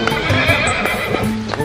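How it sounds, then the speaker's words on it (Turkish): A horse is brought in, with clip-clopping hooves and a clear neigh, close and loud, alongside scattered background noise. "Getirmiş oğlum atı."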